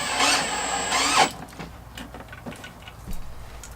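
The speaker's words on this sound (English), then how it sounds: "Use your screw gun" A screw gun drives a screw into self-closing pool fence gate hardware with a loud, steady whirring burst lasting about a second, then it stops and faint clicks and handling noises follow.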